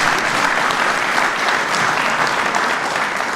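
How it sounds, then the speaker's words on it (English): A crowd at a White House fatherhood town hall claps for a congressman, a dense, even wash of applause that stays loud and steady from start to finish. "Give him a round of applause anyway."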